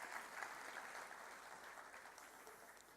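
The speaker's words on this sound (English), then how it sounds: "May I have a round of applause for the teachers too?" Applause for the teachers at a school annual day, a steady wash of many hands clapping heard at a distance, fairly faint and even, tapering slightly by the end.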